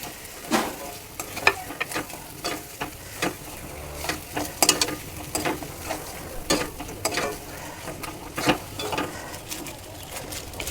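Fried fish pieces are stirred through a spiced masala in a hot pan for a Bengali fish curry, with steady sizzling broken by repeated scraping strokes of the spatula, close and clear, with no voices.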